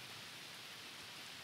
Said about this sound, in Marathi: आणि बघा किती जोरात पाऊस लागलाय